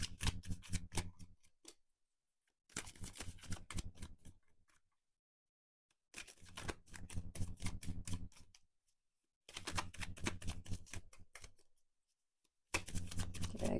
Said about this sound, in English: A good old shuffle.